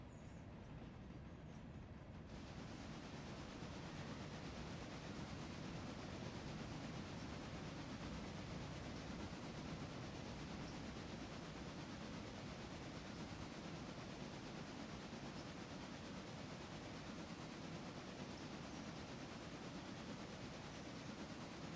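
A train rolls downhill in the video game RailRoader, a long, continuous rumbling roar with faint rail clatter, steady and fairly loud throughout, no speech.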